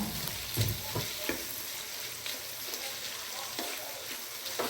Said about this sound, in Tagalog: Mix it. As the cubes will incorporate its flavor on the meat.